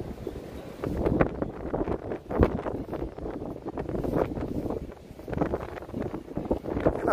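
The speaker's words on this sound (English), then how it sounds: "it's actually getting a little bit windy over here" Gusty wind buffets the microphone outdoors in Washington Square Park, New York City, in a steady, rumbling roar that swells and dips in uneven bursts.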